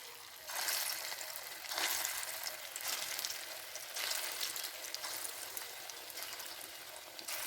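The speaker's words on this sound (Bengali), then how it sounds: "তো আমার তেল গরম হয়ে গেছে, আমি এখন সেগুলো ভেজে নেব।" Egg and carrot muitha dumplings fry in hot oil with a soft, steady sizzle that swells in several bursts over the clip, fairly quiet and close with no talk.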